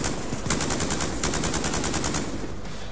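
Mk48 machine gun firing in the video game Black Ops II, rapid sustained automatic bursts with evenly spaced shots, loud and close, no talking.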